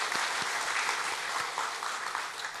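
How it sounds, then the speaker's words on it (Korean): A church congregation claps to welcome newcomers during a service, a dense, steady wash of applause heard from within the room. "우리 오늘 새로 오신 분들 환영하고 축복하는 마음으로 우리 박수로 맞이하겠습니다"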